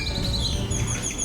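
Birds chirp loudly and continuously in Antigua, Guatemala, with overlapping high tweets over a steady outdoor background.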